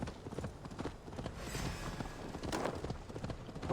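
A horse gallops in the Assassin's Creed Valhalla video game: quiet, rapid hoofbeats in a busy, continuous rhythm, steady and fairly close, over a low rumbling backdrop.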